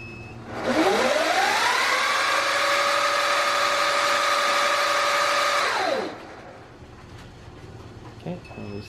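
An electric motorcycle motor spins up under a KO Moto controller calibration, a loud rising whine that holds a steady pitch for about five seconds and then winds down, with brief talk after it stops.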